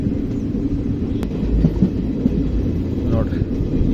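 The Mysuru to Belagavi express, train number 17301, runs along the tracks with a steady, loud, low rumble that holds without pause for the whole few seconds.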